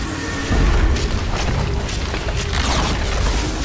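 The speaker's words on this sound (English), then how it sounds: "Radiant's middle tower has fallen." A Dota 2 tower being destroyed in the game: a loud, close, rumbling boom with crashing debris, sustained for several seconds amid dense battle noise.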